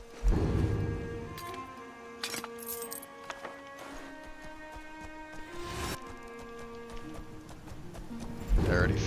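Horse hooves clip-clop in rapid rhythm in Skyrim as a rider travels, with clinking gear, a brief whinny and game music, while a voice talks over the sound.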